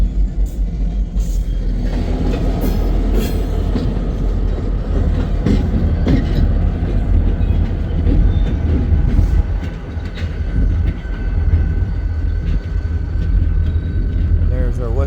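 A Union Pacific westbound manifest freight train rolls past continuously at the junction where the Blair Fremont sub meets the Omaha sub, a loud, rumbling wheel-and-rail roar with clattering cars, while someone talks over it throughout.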